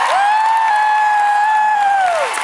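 A concert audience cheers the support bands at a show, with a loud, sustained piercing whistle riding over a bed of crowd noise and clapping.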